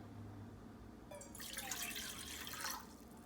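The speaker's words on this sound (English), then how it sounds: "put the water in the pan like so." After a quiet start, water pours steadily into a pan for about a second and a half, splashing softly, then stops.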